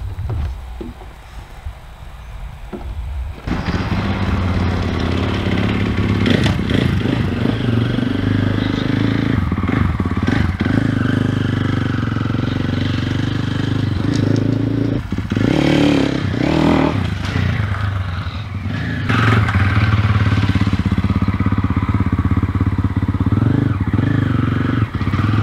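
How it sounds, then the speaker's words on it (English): A dirt bike rips around near a motocross race shop, its engine revving up and down in surges with clattering and scraping, louder passes alternating with quieter stretches and a brief lull near the start. "rip the dirt bike around a little bit so you can see what that looks like"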